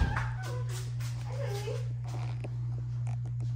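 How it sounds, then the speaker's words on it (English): Three-week-old greyhound puppies give soft whimpers and small yips up close, over a steady low electrical hum, while a person talks at the start. "Oh, you got a arm full of puppies."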